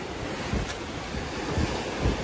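Sea waves roll and break under a strong monsoon wind, with a continuous roar of wind buffeting the microphone and a few heavier surges of surf, with no voices.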